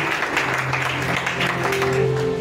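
A church congregation applauding and acclaiming the Lord, with steady, dense clapping and voices mixed into a loud, continuous wash that sustains throughout.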